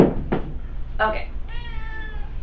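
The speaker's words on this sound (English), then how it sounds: "Sorry about my kitty." A cat meows a few times close by, short calls followed by a longer drawn-out meow, with no talking.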